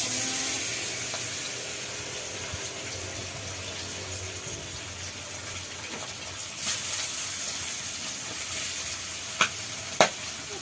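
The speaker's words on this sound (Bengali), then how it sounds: "এখন মাছগুলো ভাজার পর্ব চলছে।" Fish fry in hot oil in a pan, giving a steady close sizzle and hiss throughout, with a few sharp clicks of utensils near the end.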